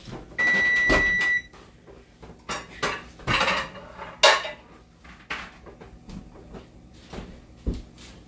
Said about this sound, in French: Je vais me sortir un plateau pour mettre ça au four.